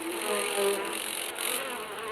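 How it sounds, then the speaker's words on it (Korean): Asian giant hornets swarm around their underground nest, a dense continuous insect buzz with rising and falling swells, close and steady, no voices. "땅 속에 자리한 거대한 장수말벌 왕국"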